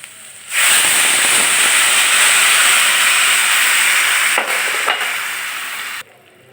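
A loud burst of steam and hissing sizzle as water is poured onto crisp-fried rice and lentils for beef khichuri in a hot pot, starting abruptly, holding strong, then tapering before cutting off.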